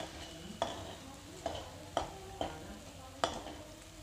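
Sabudana khichdi is stirred and sautéed in a pan over low heat, with five distinct scraping strokes of a spoon at an uneven rhythm over a faint, steady sizzle, quiet and close.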